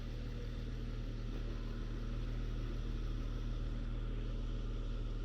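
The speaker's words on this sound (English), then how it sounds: "So let's hear the engine. It's really, really, really quiet." A 2017 Jeep Wrangler Unlimited Rubicon Hard Rock engine idles steadily and quietly, a low, even hum with a constant rumble that holds without change throughout.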